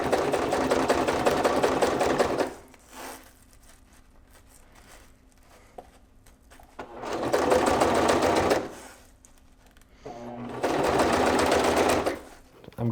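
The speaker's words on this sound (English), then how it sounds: "I stitch right on the edge of the Omni wrap so it looks nice and clean as I go" A sewing machine stitches along the edge of Omni wrap on a top collar, running in three loud sustained bursts of whirring stitching separated by quiet pauses.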